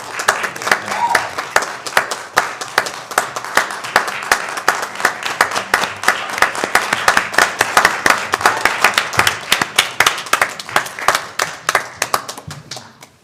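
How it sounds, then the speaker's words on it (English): A school board meeting audience applauds its scholar athletes with a long, dense round of clapping that swells, holds and then thins out toward the end, with some voices faintly under it. "one more round of applause for our scholar athletes"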